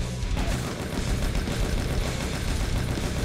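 Dense, continuous gunfire rattles in the first-person shooter Brutal Doom, a loud unbroken barrage of rapid shots with no pauses and no voice over it.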